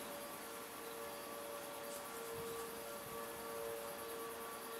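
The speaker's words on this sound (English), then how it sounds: "It sounds like there's a Model 2T going off in the background." Federal Signal Model 2T tornado siren sounding in the distance in Jamestown, North Dakota: a faint, steady wailing tone held beneath a dense broadband hiss of outdoor background noise throughout.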